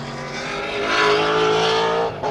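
Historic race cars at speed on the circuit at Portland International Raceway, a loud engine roar that swells as the cars pass close and then fades, with some tire noise and no talk.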